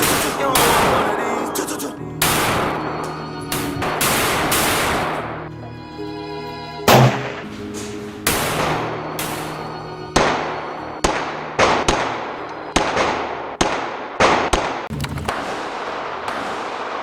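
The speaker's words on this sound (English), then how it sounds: "Gonna be doing my first shots with the CZ Scorpion" Repeated loud gunshots from a CZ EVO Scorpion 3 S1, sharp cracks in uneven bursts and single shots with short gaps, some rapid strings, close and dominant throughout.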